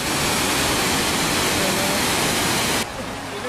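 Loud, steady rush of water pouring in a wild outdoor spot during a nature walk, broadband roar filling the clip before dropping abruptly in level near the end.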